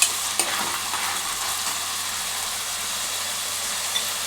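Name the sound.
stirring sauces into frying Schezwan egg fried rice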